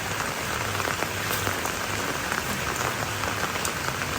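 Steady rain falls on a rural homestead while wild vegetables are being cut for drying, a dense continuous patter close by and fairly even in level, with no talking.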